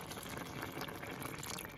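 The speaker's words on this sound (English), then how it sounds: "I'm gonna add another couple cups of water." Water poured into a thick pot of turkey sausage and lentil soup gives a faint, continuous splashing and gurgling rush, steady throughout, with no one talking.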